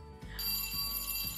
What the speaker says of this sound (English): It's the sound of the learning bell.